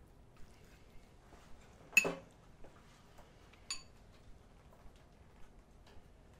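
A utensil clinks against a dish while spaghetti squash puttanesca with turkey meatballs is mixed, giving one sharp clatter, a second lighter clink and scattered soft taps in a quiet room.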